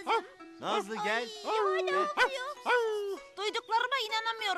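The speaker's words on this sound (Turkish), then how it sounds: "Bak hala havlıyor." A dog in an animated Turkish series yaps and barks in short bursts, mixed closely with lively character voices talking over it.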